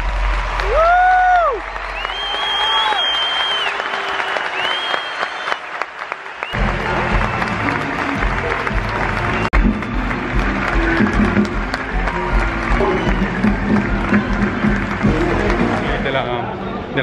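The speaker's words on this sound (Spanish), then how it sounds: "La ovación ha sido impresionante" A theatre audience gives a long, loud ovation of dense applause with some whistle-like tones early on, while a person talks over it throughout.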